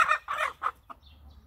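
Farm hens in a coop give a short series of close, fairly loud clucks in quick bursts, trailing off into quieter background.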